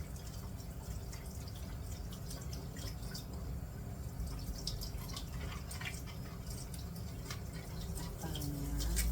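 Fruit is rinsed under running water for a soothing throat drink, a continuous faint trickle and splash with scattered drips, steady throughout and alone.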